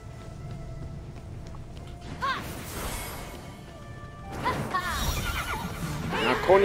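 A horse whinnies twice in the video game Immortals Fenyx Rising, over a background of game sounds and hoofbeats, with a voice talking underneath.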